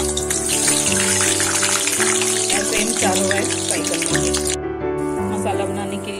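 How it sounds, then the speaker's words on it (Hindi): Eggs fry in mustard oil in a pan, giving a steady, dense sizzle that runs throughout over background music and thins briefly near the end. "अब हम एग को फ्राई करेंगे।"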